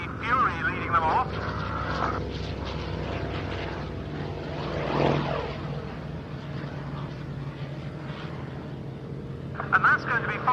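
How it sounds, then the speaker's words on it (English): Vintage airplanes led by a Hawker Fury take off from a hard runway at an airfield flying evening, with a steady droning propeller engine roar that swells and fades, heard beneath a commentator speaking over a public address. "Getting airborne from the hard runway now, another unusual combination of airplanes, the Fury leading them off."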